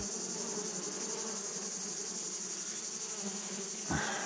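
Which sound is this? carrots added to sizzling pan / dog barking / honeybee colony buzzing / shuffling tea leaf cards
honeybee colony buzzing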